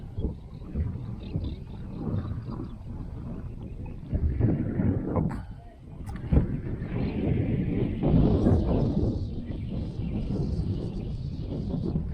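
Strong autumn wind buffets the microphone in uneven gusts while spinning for perch, a low roaring rumble that swells and dips throughout.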